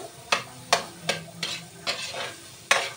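Pork fat frying in a pan for pansit canton, with a steady sizzle broken by six or so sharp scraping stirs of a utensil against the pan, close and fairly loud.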